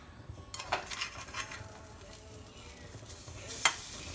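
Green pasta frying in a pan just after being flipped, a steady close sizzle with scraping and stirring from a utensil and a sharp metallic clink near the end.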